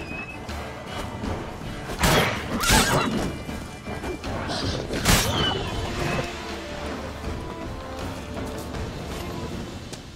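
A horse in The Witcher 3 whinnies loudly around two and five seconds, amid clip-clopping hooves and a busy game soundscape.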